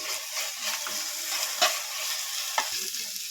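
Onion frying lightly with ginger-garlic paste for egg cutlets gives a soft, steady sizzle with a couple of sharp stirring scrapes, close and moderately quiet, no talking.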